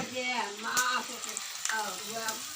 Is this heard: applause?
no